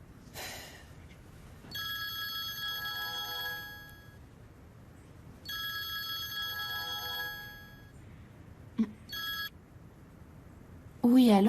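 A telephone rings in two long electronic trills separated by a pause, fairly loud and close, followed by brief clatter and a voice answering at the end.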